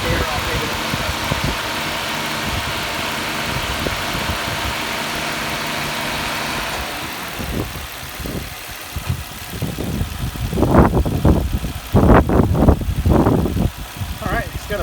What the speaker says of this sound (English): it's got a butter smooth idle